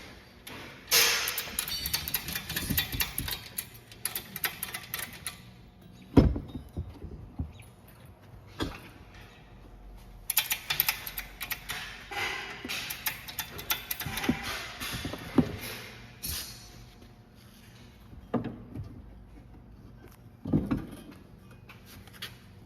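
A trailer hitch is being jacked up into position under a 2020 Hyundai Kona Electric with the bumper fascia pulled back, giving intermittent metallic clicks, clunks and rattles in bursts with quiet gaps between them, and no talking.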